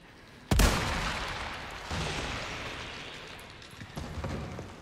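Gunfire in Resident Evil 4 Remake: one sharp, loud shot opens, followed by a second blast and a few lighter pops, with reverberant tails fading between them and no talking.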